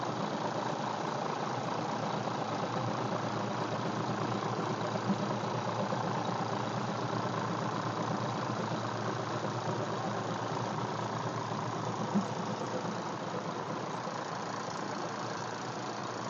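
A Hino P11 330-horsepower diesel bus engine idles steadily with an even, rumbling knock, loud and close, unchanging throughout with no voices.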